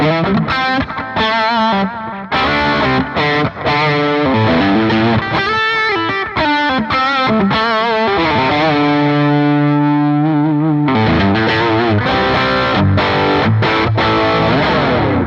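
A driven electric guitar lead through an OCD overdrive and delay plays fast, continuous phrases with distortion and echoing repeats, including a held bending note midway, loud and alone.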